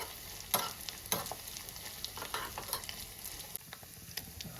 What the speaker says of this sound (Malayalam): അപ്പം നമ്മുടെ എണ്ണയിൽ നന്നായിട്ട് തേങ്ങയും വെള്ളമൊക്കെ ഇങ്ങനെ പൊരിഞ്ഞു വരുന്നുണ്ട്.